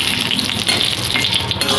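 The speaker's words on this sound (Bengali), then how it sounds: "একটু লাল লাল করে লঙ্কাটা ভেজে নিচ্ছি।" Green chillies sizzle and crackle in hot oil in a pan, a close, steady frying hiss with small pops throughout and no talking.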